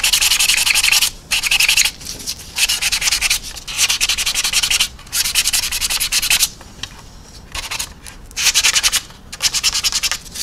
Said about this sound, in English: rub through the paint.